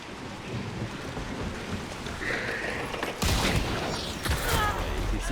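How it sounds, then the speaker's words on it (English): Heavy rain with rumbling thunder in a video game, a steady wash of rainfall with a louder crack and roll of thunder partway through, a voice talking faintly over it. "Got into heavy rain"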